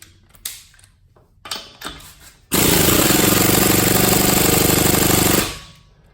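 A Harbor Freight Earthquake air impact ratchet runs during a torque test at 65 foot-pounds. A few faint clicks and handling knocks come first, then about three seconds of loud, close, rapid hammering that cuts off abruptly.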